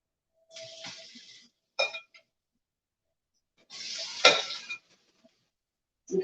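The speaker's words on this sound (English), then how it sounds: "I'm just going to just fry on each side, basically until it's brown" Green tomato slices frying in hot oil, two bursts of broadband sizzling with light clinks of tongs or pan between, close and moderate in level with no talk.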